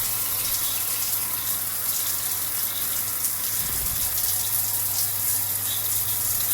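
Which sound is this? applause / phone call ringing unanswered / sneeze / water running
water running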